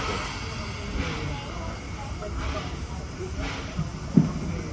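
The Torch Lake steam train pulling out of the station at Greenfield Village, heard as a steady low rumble and hiss with soft rhythmic chuffs and a brief clank near the end.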